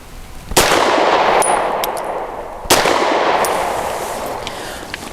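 Grand Power P1 Ultra pistol firing two sharp, loud shots about two seconds apart outdoors, each crack trailing into a long echoing decay, with faint metallic pings after each report.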